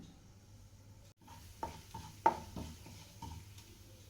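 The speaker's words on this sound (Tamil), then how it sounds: "இப்போ ஒரு கடாயில் கொஞ்சம் எண்ணெய் சேர்த்துக்குவோம் கொஞ்சம் ஜீரகம்" Cumin seeds sizzle in oil in a kadai, a soft low hiss broken by a few scattered clinks and scrapes of a spoon against the pan.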